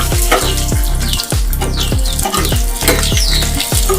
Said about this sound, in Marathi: थोडीशी चिंच मी टाकणार आहे आणि हे सर्व छानपैकी या तेलामध्ये परतून घ्यायचं आहे